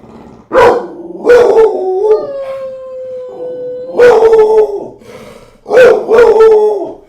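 A puppy yips and howls in several high, drawn-out bursts with short pauses between them, close and loud.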